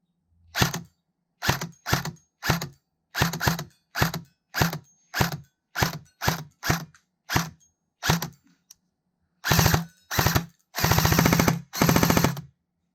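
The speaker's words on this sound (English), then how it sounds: "Yeah, so this is shooting pretty solid." Lancer Tactical Interceptor Gen2 airsoft rifle firing: a run of about fourteen sharp single shots spaced roughly half a second apart, followed by four loud rapid-fire bursts, close and clear against silence.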